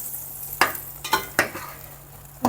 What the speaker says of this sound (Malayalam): അരി തിളച്ചിട്ടുണ്ട് ഒന്ന് ഇളക്കി കൊടുക്കാൻ